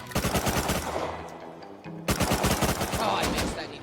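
Rapid bursts of automatic gunfire in the video game Rust, loud and close, one volley and then a second after a brief pause, with shots cracking in quick rhythmic succession.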